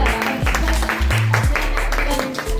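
Audience clapping at a school Independence Day program after a student's speech, a steady wash of applause sitting under sustained low tones and background sound.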